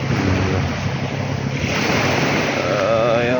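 Ocean surf at a beach in Lobo, Batangas, a steady close roar of breaking waves with wind rushing across the microphone, continuous and loud with no speech.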